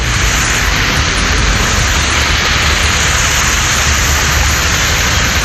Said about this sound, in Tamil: கொட்டித் தீர்த்த கனமழையால் கழிவு நீருடன் மழைநீர் கலந்து ஆறு போல் ஓடியது